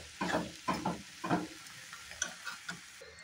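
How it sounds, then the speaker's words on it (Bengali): Greens and coriander leaves are stirred in a frying pan, a few close scraping strokes over a gentle sizzle, then lighter clicks of the utensil against the pan, with no voices. "এখানে আমি শাকটা ধনেপাতাটা দিয়ে দিব, দিয়ে আবার এখন একটু নেড়ে চেড়ে মিক্স করে দেব"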